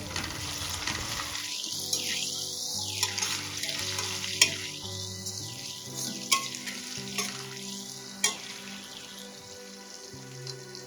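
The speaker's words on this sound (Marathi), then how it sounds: "आता या स्टेजला आपण कढीपत्ता ऍड करून घेऊया" Fresh curry leaves dropped into tomatoes frying in a kadai for dal, setting off a loud sputtering crackle that rises in bursting waves, with occasional spoon clinks as it is stirred.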